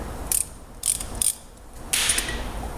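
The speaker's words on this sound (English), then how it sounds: "So what I'm doing is I'm pushing the piston right back in." Brake caliper piston pushed back in with a spreader tool during a front brake pad job, giving several short metallic ratcheting clicks in uneven bursts, close and alone.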